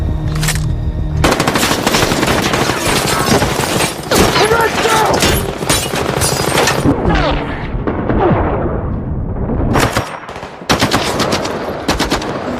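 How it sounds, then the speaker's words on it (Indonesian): Machine gun fire during a tense shootout in a bank robbery film, dense rapid bursts of automatic gunfire with sharp cracks and short pauses, loud and close throughout. "Adegan tembak-menembak yang tegang terjadi."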